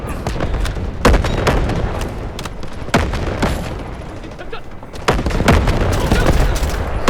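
Gunfire and grenade blasts in the Delta Force Mobile shooter, sharp loud bursts at about one, three and five seconds over a dense, continuous din of shots, with a voice speaking at times.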